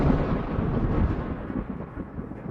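Thunder rolls in a continuous deep rumble, with several overlapping rumbles merging into one loud, sustained roar that eases slightly toward the end, with no voices.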